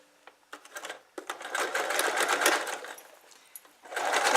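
A sewing machine stitches down quilt binding, its rapid mechanical whir starting and stopping in short bursts before running steadily, close and fairly loud with no talking.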